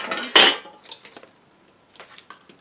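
A metal paint tin from a set of art supplies is handled up close, with one sharp metallic clatter near the start and a few lighter clinks and taps that follow, all without talk.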